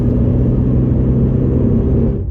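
A car with a Rover KV6 V6 engine accelerating, giving a steady, loud, close engine rumble and drone that cuts off near the end.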